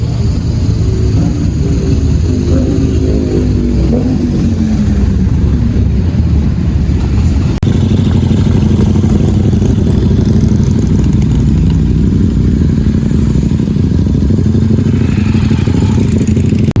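Heavy motorcycle engines, including an Indian, rumble and idle nearby at a gathering in Kuwait, loud and continuous, with one revving up and settling as more bikes pull in.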